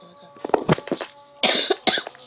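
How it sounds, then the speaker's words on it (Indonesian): A person coughs several times in quick, uneven bursts up close, with short sharp hacks and a couple of louder, rougher coughs toward the end, over a faint background hum. "aku lagi batuk karena ya habis hujan tadi"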